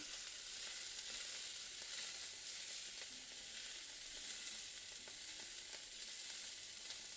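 Coriander chutney sizzles in a pan while it is stirred, giving a continuous, even hiss of frying that stays close and level throughout, with no talking.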